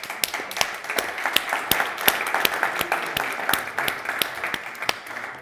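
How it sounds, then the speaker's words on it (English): Attendees at a roundtable discussion on the international monetary system clap for the panelists, a modest scattered round of individual claps with distinct sharp hits, fairly close and steady throughout. "To give an applause to our panelists."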